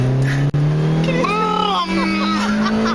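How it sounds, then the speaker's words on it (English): A Lotus Exige making a handbrake turn, its engine note rising steadily while tyres squeal in wavering tones, loud and close, with a voice heard briefly over it. "I'm gonna do the handbrake turn"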